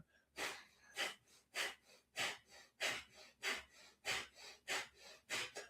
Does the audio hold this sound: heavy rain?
no